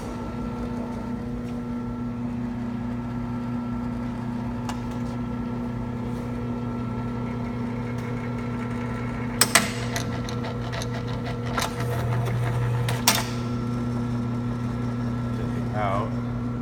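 A crowler can seamer runs steadily while seaming a lid onto a can, giving a constant mechanical hum with a few sharp clicks and clunks midway and near the end, alone without talk.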